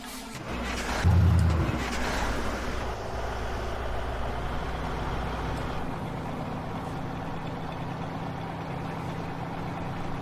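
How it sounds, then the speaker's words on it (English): A truck engine in Farming Simulator 17 runs at a steady, low, droning idle, loud and close, with a brief heavier surge near the start before settling into a constant rumble. "This truck's loud enough on its own."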